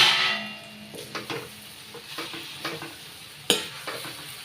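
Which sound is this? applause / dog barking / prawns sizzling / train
prawns sizzling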